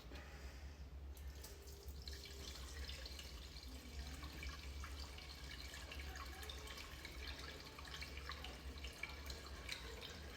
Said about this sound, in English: Now going to top the screen wash up.